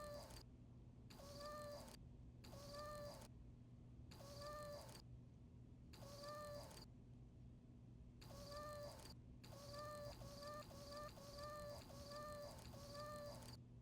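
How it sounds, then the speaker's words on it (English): Repeated cat meow samples played back on a Roland SP-404MKII sampler, about ten short clipped meows in uneven bursts, some doubled back to back, over a constant low background hum. "Then our other kitty cat noise. This one's got a couple."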